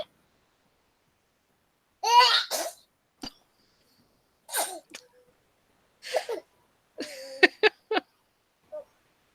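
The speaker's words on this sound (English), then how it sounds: "your child sneezed so fast that your minicam went out" A small child lets out a quick sneeze among a scattering of short coughs, throat-clearing noises and babbling sounds, each brief and close in an otherwise quiet room.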